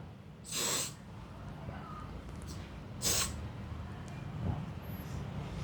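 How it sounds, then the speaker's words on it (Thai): Hair spray sprayed from a can while styling a slicked-back men's haircut: two distinct hissing bursts, each under a second, near and fairly loud, over a steady low background hum. "ใช้สเปรย์ช่วยด้วย"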